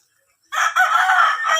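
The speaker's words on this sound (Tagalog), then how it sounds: "mga hayop na nakakulong dito, manok" A rooster crows loudly and close in a backyard pen of chickens, one sustained call that breaks a short silence.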